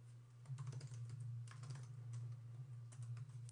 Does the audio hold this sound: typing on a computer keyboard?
yes